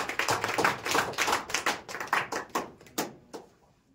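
Classroom applause for a student who placed first in a weekly class 10 test, a dense burst of many hands clapping that thins out and fades to quiet near the end.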